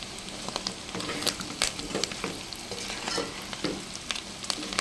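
Spice-coated pieces, dusted with chilli powder, coriander powder, ginger and salt, fry in a pan with a continuous crackling sizzle, and several sharp scraping clicks come from a spoon stirring them, close and without talk.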